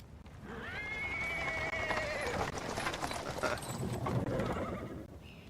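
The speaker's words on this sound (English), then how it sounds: "He's interrupted by the sound of wheels rolling on the paving stones. A cart drawn by a saddled horse appears from around the corner." A saddled horse pulls a cart over paving stones in Pathfinder: WOTR, hooves clip-clopping steadily under a rolling rumble of wheels, with a clear whinny near the start, moderately close and steady throughout.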